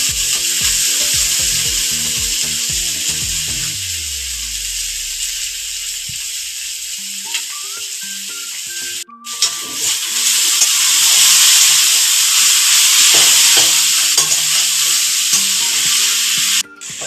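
Chow mein frying in a hot pan, a loud, continuous sizzle and hiss with scraping stirring and a low hum underneath, briefly cutting out before the sizzle resumes even stronger.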